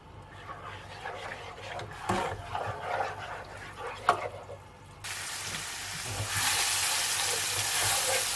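Ginger and garlic fry in oil that was used earlier to brown onions and okra. A soft sizzle and stirring clatter grow into a loud, dense, close hiss in the second half, with a faint voice underneath.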